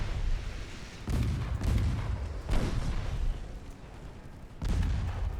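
Naval gunfire from 3-inch guns in the video game Ultimate Admiral Dreadnoughts, with heavy low booms that come in repeated bursts about every second or two and roll on continuously without a break.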